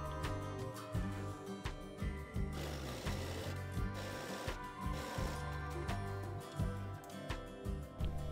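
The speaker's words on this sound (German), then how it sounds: "stecken den Beleg dort fest und nähen dann einmal gleich genau dort rüber" A sewing machine stitches a facing onto a pocket bag for overalls, running close and steadily in a fast, rhythmic mechanical chatter with brief pauses, at low overall level.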